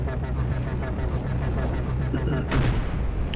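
Enemy ship's rocket launcher firing in the space-combat game Cosmoteer: dense, rumbling bursts of launches and booms roll continuously under a busy low-end wash, with a brighter swell of blasts near the end.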